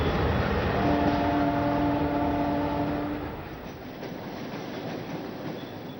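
Steady loud rumble of a long-distance train at Mumbai's CST station, with a sustained metallic squeal or tone partway through, fading slightly to a lower rolling rumble. No voices.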